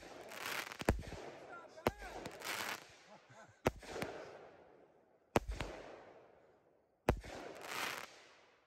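Fireworks go off at a Memorial Day outing, five loud, sharp bangs spaced a second or two apart, each trailing off in a crackling decay while people talk between the blasts.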